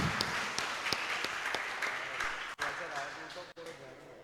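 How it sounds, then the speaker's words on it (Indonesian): Lecture-hall audience claps for a speaker at a public university lecture, a dense patter of hands that thins and fades toward the end, with a voice talking over it. "kita beri tepuk tangan dulu untuk pemateri kita yang luar biasa"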